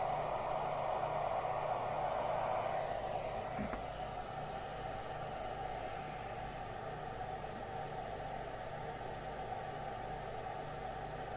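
Steady broadband hiss with a constant low hum from an Anytone Smart II CB radio with squelch off, a continuous static wash with a brief crackle near the start, no voices.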